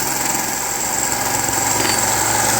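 A 1998 Busy Bee drill bit sharpener, a small belt machine taking a 1x30 belt, runs with a steady, loud motorized hum and whine that holds even throughout, with no talking.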